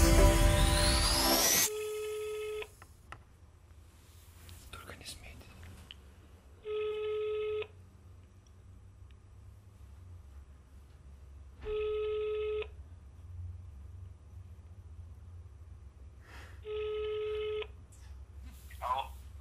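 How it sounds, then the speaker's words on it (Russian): A telephone number is dialed with a quick burst of tones, followed by repeated ringback tones, each about a second long and spaced evenly apart, with faint background noise between rings. "Сейчас мы наберем. Номер я тебе продиктую."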